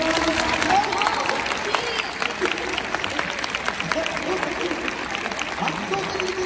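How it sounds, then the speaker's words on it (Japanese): A dense crowd at a fan appreciation day dance battle applauds steadily for a young performer, clapping loud and continuous throughout with cheers mixed in. "伊藤選手が良かったと思う方拍手お願いします"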